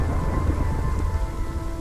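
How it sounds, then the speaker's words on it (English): Steady rain falls on a rainy day outside a destroyed building, a dense continuous hiss with low rumbling underneath, loud and unbroken throughout. "A rainy day."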